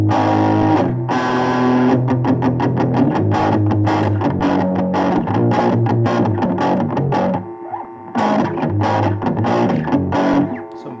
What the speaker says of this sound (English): I have some distortion here from the Boss ME80.